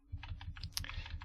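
A few quick keystrokes on a computer keyboard while editing in Vim, light close-up clicks in a short cluster over a faint low hum, no voices.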